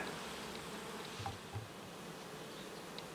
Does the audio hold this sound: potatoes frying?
no